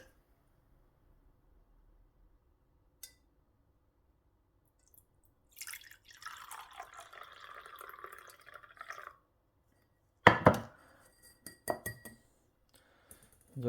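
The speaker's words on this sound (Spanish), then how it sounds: "Para ello vamos a utilizar un colador." Liquid is poured through a strainer into a glass in a quiet room. After a faint click, a soft trickle of pouring runs for a few seconds, then sharp glassy clinks and knocks follow in a short cluster.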